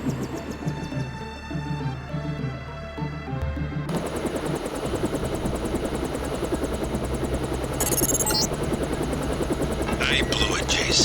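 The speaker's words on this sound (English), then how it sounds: "Time to see if this stealth copter is worth all the fuss." Stealth helicopter flying in Deus Ex: a loud, continuous rotor drone with fast chopping pulses fills the whole stretch, growing denser partway through, with brief higher mechanical bursts near the end.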